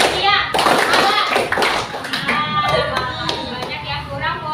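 A class of children clapping along in a rhythmic clapping game, brisk close claps in quick patterns mixed with kids' chanting voices.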